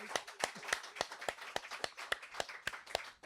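Audience clapping for a band during a live radio studio session, heard as crisp, evenly spaced claps in a steady rhythm, moderately close and fairly quiet.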